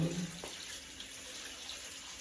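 Water runs steadily from a kitchen tap while vegetables for dog food are washed, a soft continuous hiss with a brief splash near the start and no voices.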